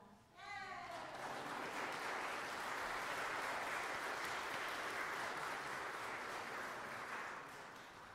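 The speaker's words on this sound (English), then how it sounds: "You're allowed to clap" Applause from a church congregation after a brass quintet leads morning worship, a sustained dense clapping that swells quickly and holds steady for several seconds before tapering at the end.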